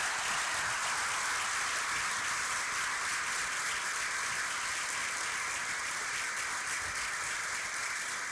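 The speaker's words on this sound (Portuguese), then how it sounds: "Uma salva de palmas para todo mundo." Audience applause for the team of Colabora Curitiba, a steady crowd clapping at moderate volume that holds evenly throughout without a break.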